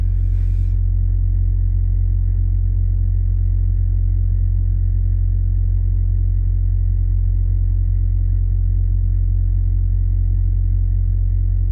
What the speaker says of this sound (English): How do I sleep with reefer noise?